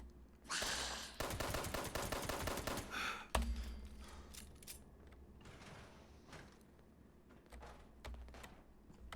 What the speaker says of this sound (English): I was shooting at their torso.